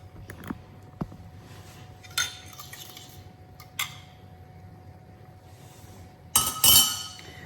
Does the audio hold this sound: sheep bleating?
no